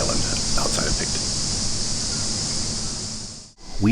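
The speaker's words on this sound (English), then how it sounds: "you can hear the birds and the cicadas on this little island outside of Picton" Cicadas on a small island outside Picton, New Zealand: a loud, continuous high shrill drone with a few faint bird calls, which cuts off abruptly near the end.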